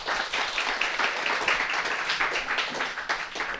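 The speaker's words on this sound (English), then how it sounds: "Let's give a round of applause to our speakers." Audience at a Holocaust history conference claps for the panel speakers, a moderate, even round of applause from a room of people, continuous and without talk.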